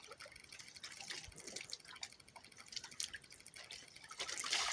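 Wet clothes hand-washed in a river are wrung out, water dripping and splashing back in a run of small, close, irregular drips and trickles with no voices.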